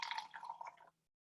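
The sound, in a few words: water poured from a water bottle into paint and soap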